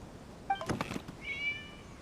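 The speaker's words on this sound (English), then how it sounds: "It was just a cat." A cat in the video game Genshin Impact gives a short meow, then a soft thump, then a longer, higher drawn-out meow, faint against a quiet background.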